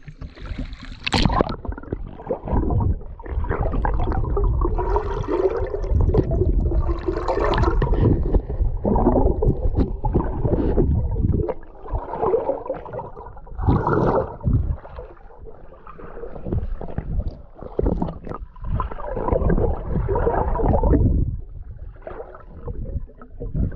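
Water splashes and gurgles as someone swims in a cold mountain lake, with wind buffeting the microphone and continuous sloshing movement through the water over nearly half a minute.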